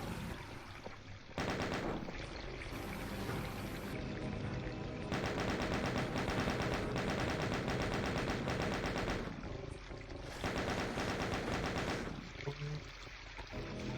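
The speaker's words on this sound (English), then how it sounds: "Chain gun sniping, right?" Rapid, sustained chain gun fire in the Doom mod MyHouse.wad rattles in long bursts with short pauses between them, loud and dense.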